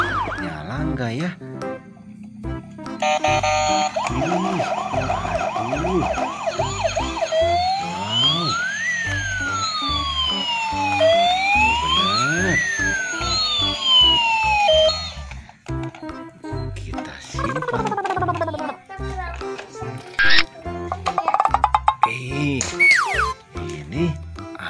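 Toy ambulance siren sweeping through electronic wailing tones, a loud close chirping and rising-falling pattern that lasts several seconds while a person speaks around it and handles the toys.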